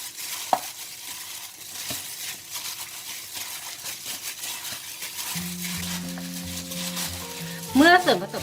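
Chicken wing marinade with garlic being mixed in a bowl, with soft continuous scraping and stirring and a brief clink near the end, fairly quiet throughout.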